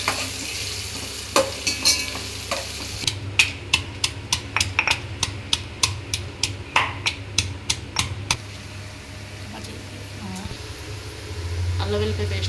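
Green chillies and onions sizzle in a pan for chicken biryani, with a rapid run of sharp spoon-on-pan clacks from stirring over a steady fry, close by, then quieter sizzling.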